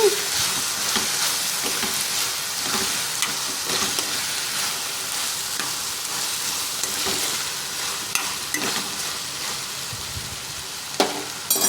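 Ivy gourd (dondakaya) pieces and green chillies fry in a pan with a steady, close sizzle, broken by periodic scraping stirs and clatters from the spoon, with no voices.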